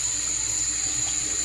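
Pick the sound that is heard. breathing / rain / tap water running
tap water running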